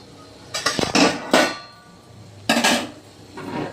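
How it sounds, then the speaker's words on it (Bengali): Metal lid lifted off a pot of steaming veg momos, giving a few sharp clanks and scrapes in two brief bursts with quiet gaps between, close by and without talk. "আমি এবার ঢাকাটা খুলে দেবো।"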